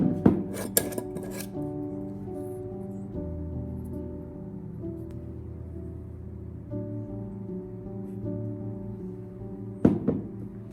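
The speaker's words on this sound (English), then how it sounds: "I use a wooden spoon to mix everything one more time directly in the jar" A wooden spoon stirs ginger-garlic syrup inside a jar, with a couple of sharp clacks near the start and again near the end, and soft rubbing and scraping in between over a steady tonal background.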